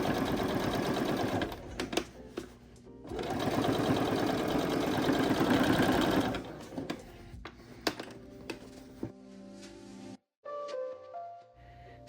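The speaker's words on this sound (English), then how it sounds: "top stitch an 1/8 inch from the seam for strength" A sewing machine top-stitches a denim bucket hat, with a fast rhythmic mechanical chatter that runs steadily for a few seconds, then trails into clicks and handling noises up close.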